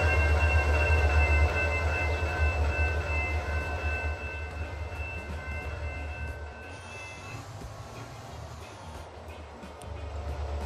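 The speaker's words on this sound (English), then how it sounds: "When it's at slow speed, it has the bell on." A slow freight train in the Transport Fever game rumbles along with its tonal bell ringing, which stops partway through while the rolling rail noise fades to a lower, steady drone.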